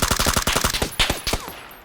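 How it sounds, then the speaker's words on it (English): Gunfire during a PUBG match, a rapid burst of about a dozen sharp, close shots that slows and thins out toward the end, with no voices. "He's getting sniped at."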